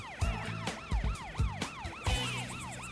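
Cartoon police patrol cars sound their wailing sirens in a playground rescue scene, rising-and-falling tones repeating loudly over punchy thumps and music, with a burst of brighter noise near the end; no talking.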